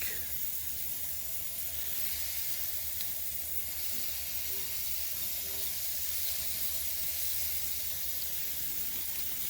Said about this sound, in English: now it's time to put on a piece of steak